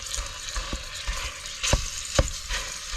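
Chopped meat fries in a pan during van-life camp cooking, a continuous crackling sizzle with a few sharp knocks of a utensil stirring and scraping the pan, close and with no talk.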